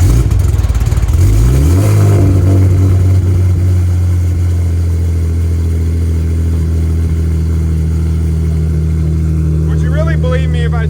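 A 1,700 horsepower Nissan GTR cold starts with a cranking burst, then settles into a loud, deep, steady idle that holds close and constant, with someone talking briefly near the end.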